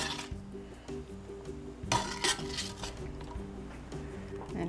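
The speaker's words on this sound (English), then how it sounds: "And then I'm going to mix the milk with the eggs." Eggs being mixed with milk in a bowl for a Spanish potato omelette, with a run of light clinks and scraping taps of utensil against the bowl, including a couple of sharper knocks partway through.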